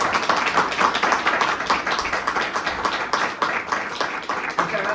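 Steady, dense applause from an auditorium audience at a mental health talk, sustained throughout with a scattering of individual claps and a faint murmur underneath.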